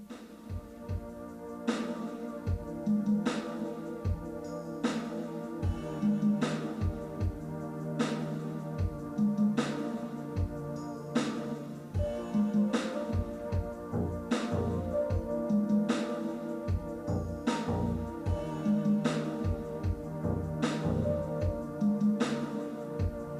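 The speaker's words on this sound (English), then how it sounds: "here's the sound of the synthesizer through the speakers in the room as heard by the microphones" A synthesizer plays through speakers in a room and is picked up by microphones capturing only early reflections. Its steady, repeating rhythmic pattern of pulsing beats and sustained tones runs continuously for over twenty seconds without talk.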